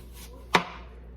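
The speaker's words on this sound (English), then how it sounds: "I'm gonna cut up an onion" A single sharp knife chop through an onion lands on a cutting board, close and crisp, with a quiet low hum from a stove underneath.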